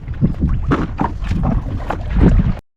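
Gusty wind blows over the Bhavanisagar dam reservoir beside a round coracle, loudly buffeting the microphone in uneven surges before cutting off abruptly.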